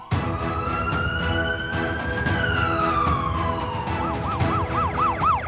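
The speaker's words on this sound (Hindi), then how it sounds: "जब एम्बुलेंस का सायरन बजता है तो भीड़ भरी सड़कें भी खाली हो जाती हैं" A loud ambulance siren wails, rising and falling slowly, then switches to a fast warbling yelp near the end, with traffic rumble underneath.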